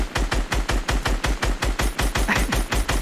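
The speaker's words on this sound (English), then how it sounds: "I'm gonna shoot you with this gun!" Rapid, evenly spaced bursts of SCAR assault rifle fire from the video game Fortnite, about a dozen loud, punchy shots in a tight rhythmic string, close and clear with no talk over them.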